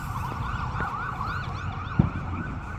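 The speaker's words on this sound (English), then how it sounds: "I keep on hearing ambulance." Ambulance siren wailing steadily at a distance under outdoor ambient noise on the Fourth of July, its rising and falling tone continuous throughout, with one brief low thump partway through.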